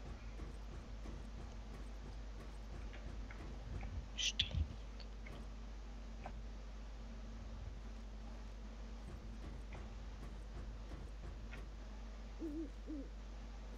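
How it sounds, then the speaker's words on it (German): Owls hoot faintly in the video game Hounds: The Last Hope, on a closed factory map, with a short burst of hoots near the middle over a low, quiet in-game hum. "Und ich höre Eulen."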